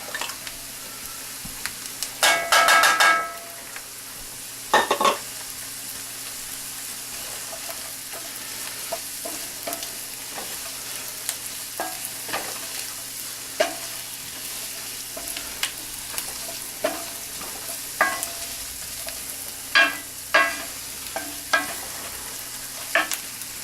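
Onions and celery sauté in a pan for sourdough stuffing, giving a soft steady sizzle broken by scattered clinks and scrapes of a utensil stirring, with a couple of louder clattering bursts near the start.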